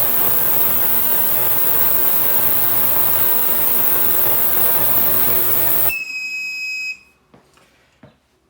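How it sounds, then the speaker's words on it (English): An ultrasonic cleaner working on diesel heater parts gives a loud, steady hum and hiss for about six seconds, then shuts off abruptly, leaving a few faint beeps and quiet clicks. "Last 15 seconds of today's ultrasonic cleaner."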